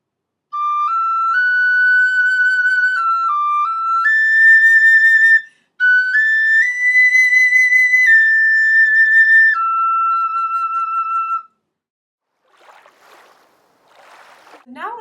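A tin whistle plays a melody, clear high sustained notes stepping up and down through two phrases with a short break between them, followed by faint scattered noise after the tune ends.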